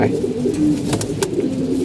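Pigeons coo close by in low, rolling repeated calls, with a few faint chirps and light rustles mixed in.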